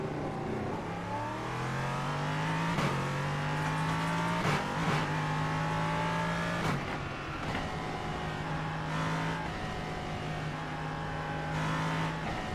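A GT4 race car in iRacing, lapping the Nürburgring Nordschleife, drones close and loud, its engine climbing through revs with several sharp gear-change drops before rising again.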